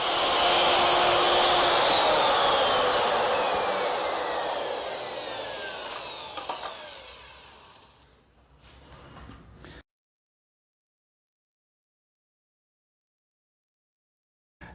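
Power tool cutting wood for a four-poster bed tenon, a loud sustained whining cut that slowly fades over several seconds, followed by a few short bursts, then silence, with a brief click at the very end.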